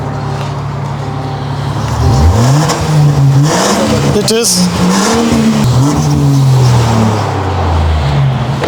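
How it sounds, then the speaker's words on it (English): A customised Range Rover's exhaust revs hard, rising and falling in pitch with a sharp crackle mid-rev, loud and close, with a brief spoken remark. "And also the sound of the exhaust. Listen to this."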